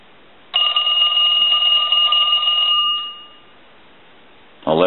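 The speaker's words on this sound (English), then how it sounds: "I want to go ahead and ring the telephone." A Western Electric Mini Wall 2554 telephone's bell rings in one sustained, loud metallic burst for about two and a half seconds, then decays into quiet before a brief noise at the end.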